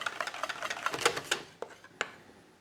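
Rapid whisking of apple juice cream for a Swiss dessert, quick rhythmic clicks of a whisk against a bowl that grow sparser, ending with a couple of isolated taps.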